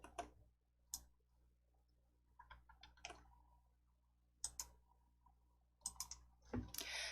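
A computer mouse clicks a close button, giving a few sharp, separate clicks at a quiet level in an otherwise silent room.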